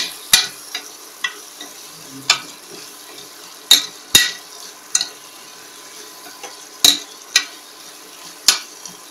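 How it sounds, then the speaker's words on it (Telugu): Telugu aloo bath cooking in a pan, with sharp metal clinks of a spoon stirring the ingredients at irregular intervals over a faint, steady sizzle of frying. "అది కూడా కొంచెం కొద్దిగా వేయించాలి"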